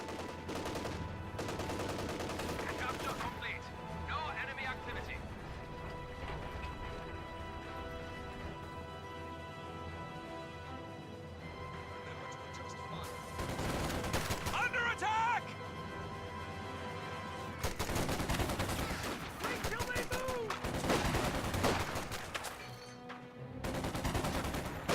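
Gunfire bursts and grenade blasts from a World War II strategy game match, with BAR automatic rifles firing near a headquarters building; broadband bursts come in several clusters across the clip under steady background game noise and commentary-style talk.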